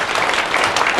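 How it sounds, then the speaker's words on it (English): Audience clapping at a live talk in the city, a dense, steady wash of many hands close by, continuous and fairly loud with no voices standing out. "Everyone clap? You can clap in your yeah"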